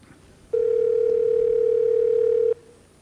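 A single steady electronic tone rings on a radio station's phone line during a 1993 live broadcast for about two seconds, then cuts off, loud against a faint background hiss.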